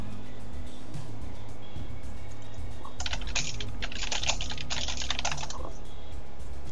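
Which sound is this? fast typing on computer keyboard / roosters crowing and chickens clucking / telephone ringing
fast typing on computer keyboard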